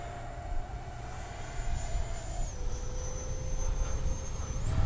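An FMS Futura V3 RC jet plane flies overhead at full throttle, its steady whining ducted-fan tone dipping slightly in pitch as it passes at a moderate distance.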